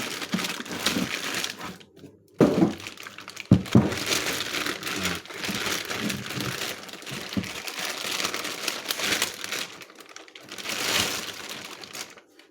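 The plastic bag around a KAMAZ power steering pump is handled close up, giving continuous crinkling and rustling with a few sharper crackles and thumps.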